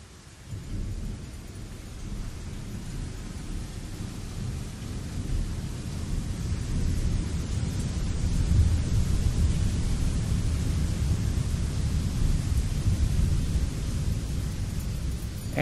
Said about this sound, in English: Distant thunder.